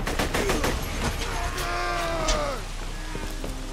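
Gunfire from an assault rifle in Borderlands 2, bursts of sharp shots in the first seconds over busy game sound, followed by whooshing tonal effects and music.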